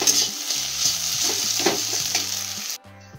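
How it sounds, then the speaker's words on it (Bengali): Scrambled eggs fry in oil in a kadai and are stirred, a steady close sizzle with scraping stir strokes and rhythmic beats of background music, cutting off near the end. "ডিমগুলো ঝুড়ো ঝুড়ো করে আমার ভাজা হয়ে গেছে।"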